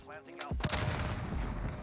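Gunfire erupts in the video game Modern Warfare, a sharp blast followed by a dense, roaring wash of shots and booms that fills the rest of the short moment at moderate loudness.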